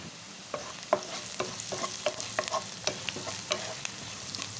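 Turmeric and onions fry in oil in a pan for a black-eyed bean curry, giving a close, continuous sizzle. Frequent light spatula stirs and scrapes repeat in an uneven rhythm over it.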